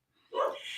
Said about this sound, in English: Oh, Venus, you got your puppy there too